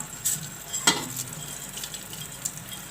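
Ground onion and bay leaf frying in hot oil for a beef Sindhi biryani give off a soft, steady sizzle, faint and close, with a light stir or utensil clink partway through.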